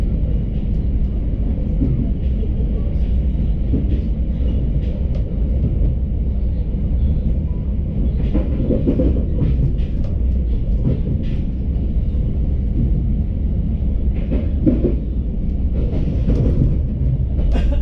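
The KA Sawunggalih executive train rolls through Cikampek station in Indonesia, a loud, steady rumbling roar of wheels and carriages lasting throughout, with scattered clicks and clacks of rail joints over the continuous drone.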